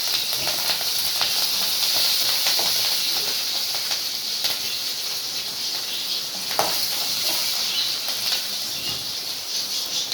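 Cumin seeds and green chilies sizzle in hot oil while making a peanut masala, a steady frying hiss with scattered crackles and pops running close and continuous throughout.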